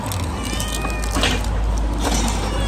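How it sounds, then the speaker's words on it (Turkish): A Macedonian cat meows close by, with a couple of drawn-out, caterwaul-like calls over a low background hum. "Bir Makedon kedi."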